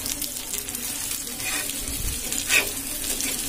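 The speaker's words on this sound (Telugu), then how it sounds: "మీడియం ఫ్లేమ్లో పెడితే ఒక 5 నిమిషాల్లో ఫిష్ అనేది ఫ్రై అయిపోతుంది" Fish frying in a pan over a medium flame, a steady close sizzle with crackling bursts and a brief louder flare partway through, no voices.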